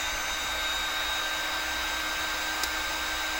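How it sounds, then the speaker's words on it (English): Electric heat gun running on a workbench, a steady close blowing hiss like a hair dryer with a faint whine, continuous and unchanging, with a tiny click near the end. "And if I turn on the heat gun"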